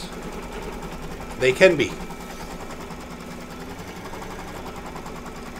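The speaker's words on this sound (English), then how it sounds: "All right, so I stitched it down twice." An embroidery machine hums and rattles while stitching a gingerbread man mug rug in the hoop, a low continuous mechanical drone under conversation, with a brief louder burst of chatter partway through.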